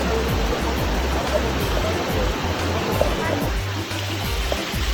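Dunn's River Falls in Ocho Rios, Jamaica pours as a constant broadband roar of rushing water, steady and close throughout, with low rumbling gusts and faint voices mixed beneath the flow.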